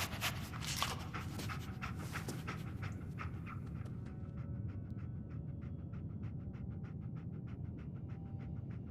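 A dog named Dogmeat pants rapidly and rhythmically in Fallout 4, quick breathy puffs close and fairly faint, growing more evenly spaced as the clip goes on.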